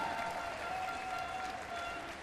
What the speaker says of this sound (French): On peut applaudir bien fort les championnes du monde